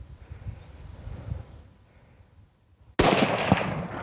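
A single loud rifle shot cracks out on a giraffe hunt in open bush, breaking a near-silent lull of faint wind and rustling, its report rolling away in a short echoing tail.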